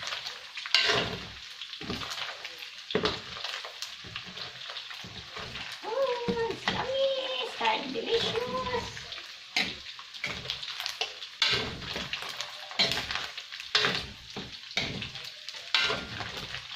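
Oil spatters and crackles while pork belly fries for Filipino adobo, a busy irregular sizzle full of sharp pops, with someone talking over it at times.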